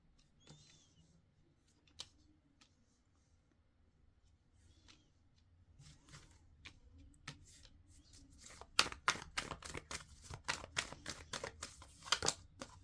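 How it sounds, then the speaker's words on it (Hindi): Tarot cards being shuffled and laid out by hand, quiet soft rustling at first that grows into a dense run of crisp card snaps and flicks toward the end, close and alone. "Let me arrange the cards."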